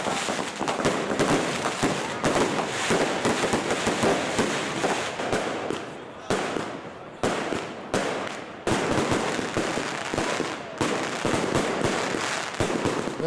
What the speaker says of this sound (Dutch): 30 jaar gaan we hier al gezamenlijk vuurwerk afsteken.